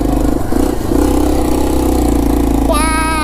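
Engine of a Yamaha TW200 motorcycle climbing an aqueduct road uphill, a steady loud mid-pitched drone, with a brief rising whine near the end.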